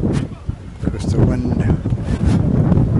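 Wind buffeting the microphone outdoors at a rugby match, loud gusty rumble throughout with a commentator talking over it.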